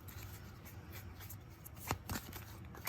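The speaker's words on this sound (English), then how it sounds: "I love how this deck shuffles" A tarot card deck being shuffled by hand, soft close riffling and sliding of cards, faint with a couple of brief louder flicks.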